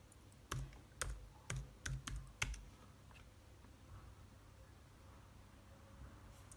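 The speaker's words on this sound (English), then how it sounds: "when I typed in Cricut.com" Someone types on a computer keyboard, logging in to the Cricut website: about six quick clusters of crisp key clicks in the first half, then quiet room tone with no talking.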